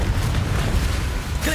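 A Confringo blasting spell in Hogwarts Legacy produces a heavy, rumbling explosive roar with a sharper burst at the end, loud and close, with a voice partly over it.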